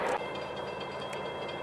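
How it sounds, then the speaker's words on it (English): A CSX or Amtrak train rolling past at close range, a loud, continuous rumble with faint rhythmic wheel clatter and no voices. "here comes another train"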